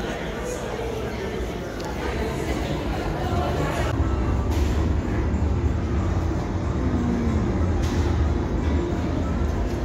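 A theme park train at Universal's Islands of Adventure rumbles along steadily with broad low-frequency noise, while people chatter nearby throughout.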